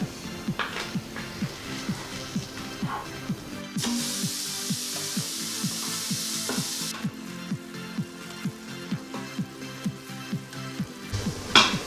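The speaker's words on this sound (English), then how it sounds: "I am going to take the ground beef and put it in the Instant Pot." Ground beef sizzling as it browns in an Instant Pot, a steady loud frying hiss close by, with rhythmic scraping strokes from stirring and a brief burst of stronger spitting in the middle.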